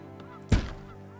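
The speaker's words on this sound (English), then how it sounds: "Oh, there goes the geese again." A single loud goose honk rings out in the video game Farthest Frontier, a brief nasal blast over a quiet tonal game background, with no talking.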